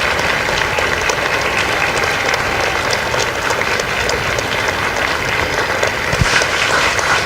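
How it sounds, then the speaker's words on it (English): Audience applause fills a Marine recruit graduation ceremony at MCRD San Diego: steady, dense clapping from a large crowd, continuous and even throughout with no break. "Ladies and gentlemen, a round of applause for their dedicated service to corps and country."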